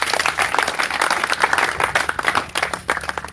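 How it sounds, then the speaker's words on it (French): A church congregation breaks into lively applause, dense rhythmic clapping that swells and pulses unevenly for a few seconds. "Applaudissons pour le Seigneur."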